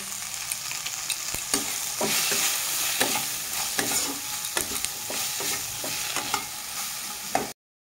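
Turmeric, sugar, cumin and coriander powder with grated ginger fry in a pan for vegetable dal, a constant close sizzle broken by regular scraping stirs of a spatula, with no voices.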